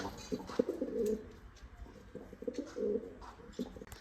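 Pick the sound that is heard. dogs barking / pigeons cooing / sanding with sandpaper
pigeons cooing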